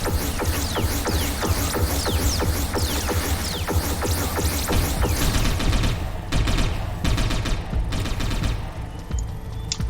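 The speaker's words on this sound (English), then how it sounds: "Oh, they're shooting at mine." Rapid bursts of gunfire in the game Satellite Reign, dense overlapping shots and clatter filling the whole stretch, loud and close, thinning slightly toward the end.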